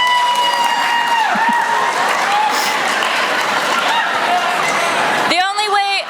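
Crowd clapping and cheering at a school district convocation fills the hall as a steady loud wash, with laughter and voices mixed in, before a speaker's amplified voice cuts in at the end.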